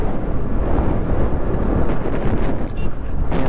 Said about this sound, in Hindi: पहाड़ पे आने के बाद एकदम ठंडा ठंडा हवा चल रहा है